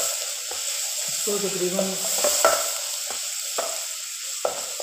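Ginger-garlic paste sautéing over fairly high heat for a beetroot and ground beef qeema, a steady sizzle with a few stirring scrapes, under brief talk.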